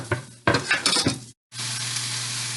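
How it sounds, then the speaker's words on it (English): Onions and garlic sizzle in a hot pan with clattering stirring sounds, then after a brief silent cut, a steady, loud sizzle continues. "So you can hear the veggies in there sizzling."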